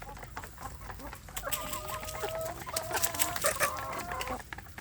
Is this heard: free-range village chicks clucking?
yes